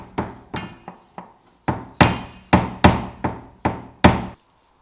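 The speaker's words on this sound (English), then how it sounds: "give a few taps over here with a hammer and a screwdriver" A hammer knocks on a screwdriver set against a Fiat Bravo fuel pump in about a dozen quick, fairly steady taps. The taps are near and crisp and grow slightly louder partway through, with no voices.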